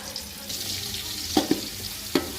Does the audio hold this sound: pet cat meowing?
no